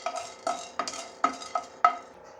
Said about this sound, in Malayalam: പൊടിക്കുന്ന സമയത്ത് ഇതിനെ നമുക്കൊന്ന് റോസ്റ്റാക്കി എടുക്കാം